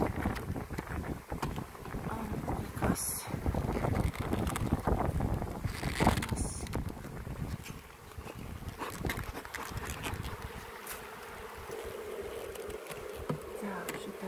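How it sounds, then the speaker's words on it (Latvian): Steady roaring wind buffeting the microphone during a beehive move, loud and continuous throughout, with a few brief knocks and rustles. "vējš ir diezgan stiprs"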